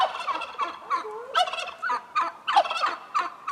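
A turkey gobbles repeatedly in quick, warbling bursts, fairly close and clear, with no talking over it.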